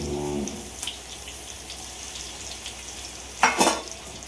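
Prawns go into hot masala in a pan, a moderate sizzle with a soft stirring scrape and one louder burst of frying near the end.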